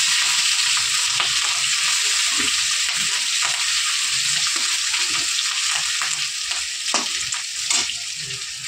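Green chillies and ginger frying in a pan for potato chop stuffing, with a loud, dense, constant sizzle and crackle broken by intermittent stirring scrapes.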